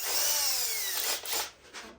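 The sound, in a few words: power drill drilling a hole for a table leg insert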